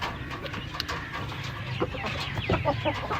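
A chicken clucks in short repeated bursts nearby, with other birds and faint farmyard noise around it.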